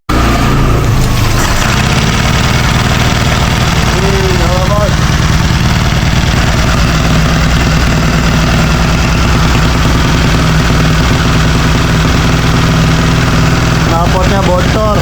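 A bored-up motorcycle with a leaking exhaust idles loudly and roughly, a steady close engine throb with a few short revs, while people talk over it.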